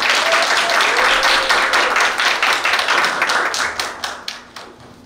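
An indoor audience applauds to welcome a professor at a lecture, loud dense clapping that gradually thins out into scattered individual claps and fades by the end.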